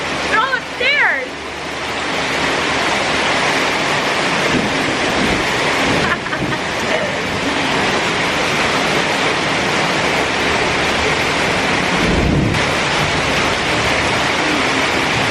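Heavy rain pours steadily and loudly for the whole stretch, a dense unbroken roar with a brief louder surge near the end. No clear thunder stands out, and a few faint voices come through early on.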